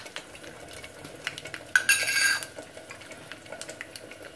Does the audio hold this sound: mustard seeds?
yes